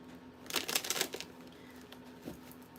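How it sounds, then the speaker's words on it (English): Tarot cards are shuffled in a quick crisp riffle of papery flutters close by, followed by quieter riffles and a last small shuffle against a low hum. "I'm gonna shuffle 2 more times because that's what I'm hearing."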